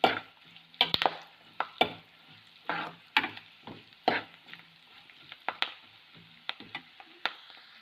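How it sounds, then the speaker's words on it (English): Cashews frying in a pan until light brown, for Kanchipuram temple idli, give a steady soft sizzle broken by repeated spoon scrapes and clicks of stirring. "So we have to fry until the cashew become light brown in color."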